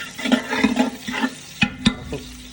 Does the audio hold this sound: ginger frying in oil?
yes